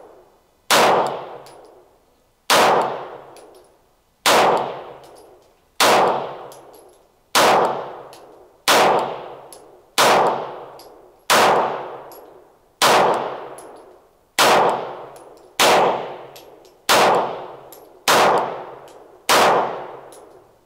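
Shots from a Springfield Prodigy pistol ring out one at a time in a slow, evenly spaced string of about fourteen sharp, loud reports, each trailing a short ringing decay, with ammo feed malfunctions along the way.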